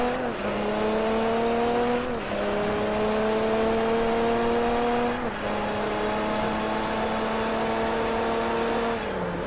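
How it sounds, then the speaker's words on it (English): Racing car engine in Forza Motorsport 3 revving hard during wheel spin, rising whining pitch sweeps repeating in three long pulls, loud and close with no talk. "Fucking wheel spin."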